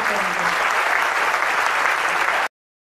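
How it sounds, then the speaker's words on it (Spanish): A crowd at a club event applauds loudly and continuously for a couple of seconds before the sound cuts off abruptly. "toda la energía y la ovación de la noche para todos los presentes"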